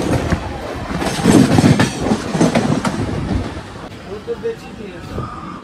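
A passenger train on the line near Barakar station runs along with a steady loud rumble, rail clatter and wheel noise, while voices murmur inside the coach.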